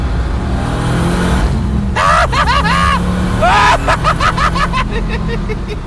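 Dodge Viper RT10 engine rumbling steadily while driving, heard from inside with a loud, low drone and rising revs, under excited talk from people in the car.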